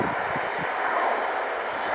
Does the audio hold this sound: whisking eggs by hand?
no